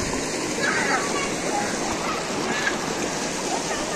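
Steady rushing of flowing water from a spring-fed tap in a village, continuous and close, with people talking over it.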